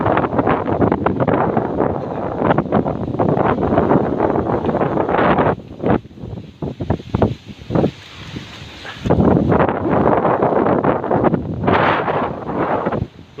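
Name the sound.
strong wind blowing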